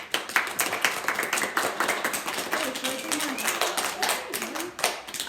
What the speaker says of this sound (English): We give her a clap.